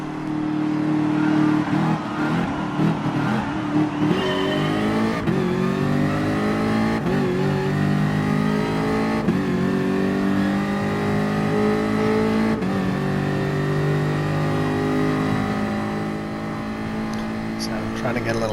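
A race car engine in a video game race at Fuji Speedway revs hard from the start, climbing loudly through repeated gear changes with rising and falling engine pitch that stays close and continuous.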